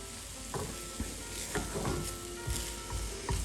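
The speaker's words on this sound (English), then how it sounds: "When you swirl like that, the omelette is cooking" A classic French omelette cooks in a pan being swirled, giving a soft continuous sizzle with a few light metallic taps and scrapes, close up and fairly quiet, with no voices.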